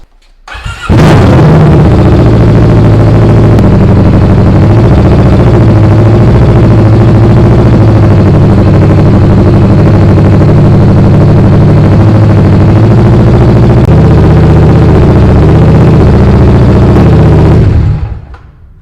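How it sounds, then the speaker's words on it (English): A Kawasaki Vulcan S motorcycle engine cranks and fires, then settles into a loud, steady close idle for about sixteen seconds before shutting off. "let's turn on the motorcycle"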